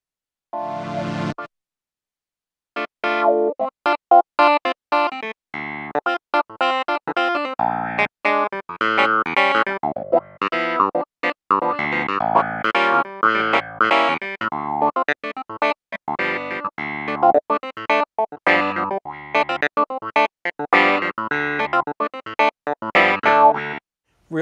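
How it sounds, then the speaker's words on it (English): A Nord Electro 5 clavinet patch runs through a pedal-controlled wah, playing funky, choppy, percussive chords and riffs with a distorted, sweeping tone, loud and close with brief gaps between phrases and no talking. "I'll use a clavinet sound, and I'm going to route my effect to a wah effect, and then I'm going to control that from a CC pedal"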